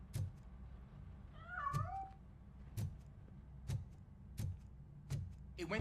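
A cat in RoboCop: Rogue City meows once with a rising, wavering cry while escaping, set against repeated sharp clicks and thuds and a low steady hum.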